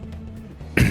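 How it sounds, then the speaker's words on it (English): A sudden, loud cough bursts out at the very end after a brief quiet hum, a single sharp harsh expulsion from someone who has been sick. "what an intro, coughing up my lungs"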